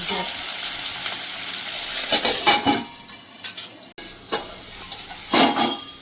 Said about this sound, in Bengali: আলুটাকে আমি 2 মিনিট একটু ভেজে নেবো হালকা করে